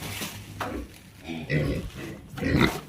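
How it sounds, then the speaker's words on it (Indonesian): Pigs on a livestock farm grunt and snuffle while being fed a snack, with short, irregular rough bursts close by and a person speaking over them. "kita kasih snack babinya"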